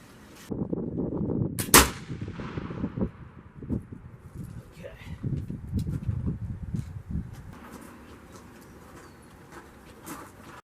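A flintlock trade gun fires once at a pizza box target about 20 yards away, a single sharp, loud crack early on, with people talking and outdoor background sounds before and after.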